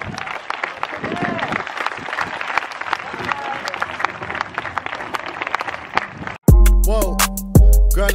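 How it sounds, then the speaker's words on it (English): A crowd at a protest claps along in a dense, sustained patter, then loud music abruptly takes over for the final seconds. "Come on and clap your hands."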